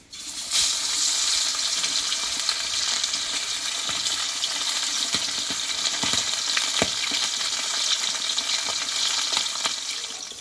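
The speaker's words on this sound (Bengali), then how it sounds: "এই মাছগুলো আমি এক পিচ এক পিচ করে ভেজে নেব দেখো তেলটা গরম হয়ে গেছে" Tilapia fish pieces sizzle loudly in hot oil, a constant close crackle with scattered pops throughout.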